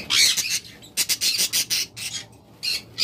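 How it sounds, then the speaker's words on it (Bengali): Red-eyed budgerigars squawk in sharp, bright bursts, a string of about a dozen short harsh calls from nearby caged birds with brief gaps between them. "আপনারা যারা বাচ্চা সহ বাজরিগার পাখি নিতে চান"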